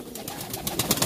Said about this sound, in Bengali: এখানে 13টা কালার কবুতর রাখছি, 26 জোড়া